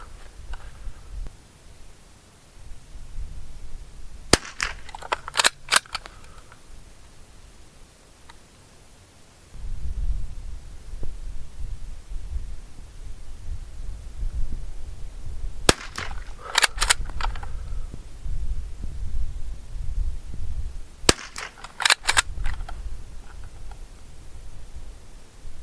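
Three clusters of sharp rifle shots from 50m three-position target shooting ring out at a range, spaced several seconds apart, over steady low outdoor rumble with no talk.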